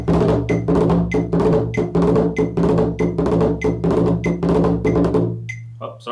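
Sharp, even strikes on a bodhran frame drum in triple time, with an up-down five-stroke roll landing on the downbeat. The hits ring close and loud with no talk, then stop in a short ringing tail.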